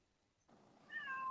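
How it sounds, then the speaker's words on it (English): A house cat meows quietly in the background of an indoor room, one short drawn-out call rising and then dipping, faint and distant, with no talking. "excuse my cat in the back, he talking"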